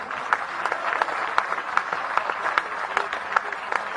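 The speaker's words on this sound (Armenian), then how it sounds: "Ծափահարություններ Գյումրիին։" A crowd at a political rally in Gyumri claps steadily throughout, a dense, continuous round of applause with sharper individual claps standing out.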